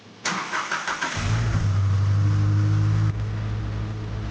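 A rebuilt car's engine cranks and catches, then settles into a steady, close, loud idle with a slight rev before easing off.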